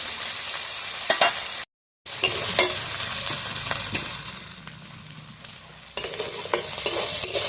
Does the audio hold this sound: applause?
no